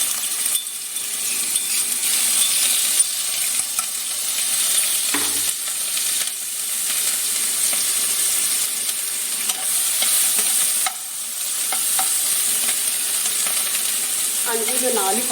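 Ginger, garlic and green chili paste goes into hot oil with crackled cumin, a loud continuous sizzle that flares now and then, with a few metallic clinks and brief stirring scrapes.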